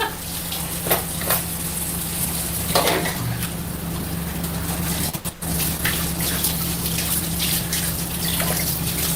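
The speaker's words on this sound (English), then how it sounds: "just letting the water run" A kitchen tap runs steadily for several seconds, a constant close rushing of water with faint clinks of dishes.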